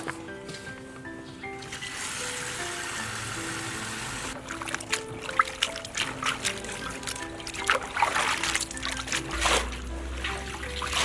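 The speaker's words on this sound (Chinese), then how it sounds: "剪干净的蒜苔和豆角洗一下" Garlic scapes and green beans being washed by hand in water, a continuous trickle and slosh with splashing and knocking, close and fairly loud, with faint music underneath.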